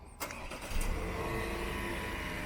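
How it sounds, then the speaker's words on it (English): A Chevrolet Camaro Turbo Gen6 fires up by remote start, a short crank followed by the engine catching and settling into a steady idle, close and clear. "and then there you go, your car starts up."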